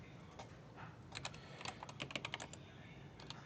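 Python code being typed on a computer keyboard: quiet, close keystrokes clatter in quick irregular clusters over a soft background hiss, with no voice.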